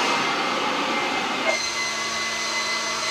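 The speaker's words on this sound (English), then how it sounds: "it's a blower" An 18-volt battery-powered leaf blower runs close by with a loud, steady rushing whoosh that shifts slightly in pitch partway through, with no speech.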